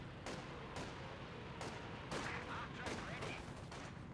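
Repeated artillery rounds from a barrage in Company of Heroes 2 go off as sharp, evenly spaced booms, about six in four seconds, over a steady battlefield rumble.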